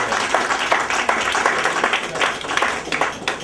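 Applause at an NAACP Mid-Manhattan Branch meeting, a modest room of people clapping with distinct individual hand claps pulsing unevenly for a few seconds.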